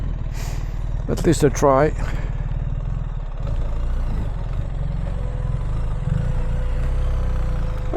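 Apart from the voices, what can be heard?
BMW R1300GS Adventure motorcycle engine during off-camber riding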